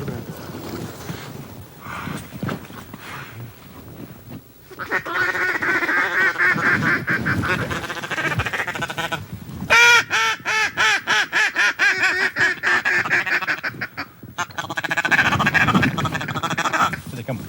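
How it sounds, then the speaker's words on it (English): Geese and ducks call overhead during a duck hunt, a loud run of repeated honks and quacks growing denser and nearer in bursts, mixed with people talking. "Look at the goose."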